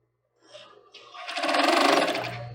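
Sewing machine stitching a child's swimsuit, a close, steady motor whir with rapid stitching rhythm that starts after a quiet moment and builds to a loud continuous run.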